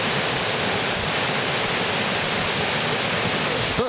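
Christian Valley Waterfall in Antigua pours in a constant, dense roar of falling water, loud and unbroken from start to finish.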